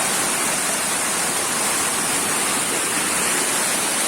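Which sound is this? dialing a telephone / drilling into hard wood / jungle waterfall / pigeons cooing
jungle waterfall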